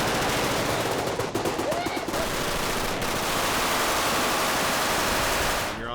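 Sustained full-auto gunfire on the film set of The A-Team, loud, dense bursts of rapid shots running together almost without pause before cutting off at the end.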